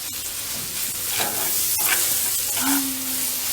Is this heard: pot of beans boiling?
yes